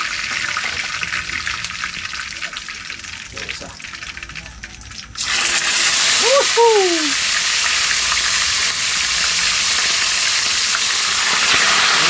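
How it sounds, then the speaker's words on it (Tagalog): Food frying in a pan, a broad steady sizzle that jumps louder midway and then holds, with a person talking briefly over it. "So habang tayo po ay nagpiprito"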